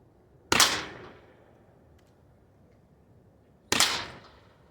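A Byrna Mission 4 launcher fires one barrel at a time: two sharp, loud pops about three seconds apart, each with a short fading tail in otherwise quiet surroundings.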